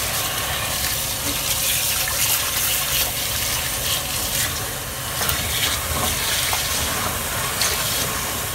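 Soaked mung beans are rinsed under running tap water, a loud steady gushing splash that continues without pause, with no voices.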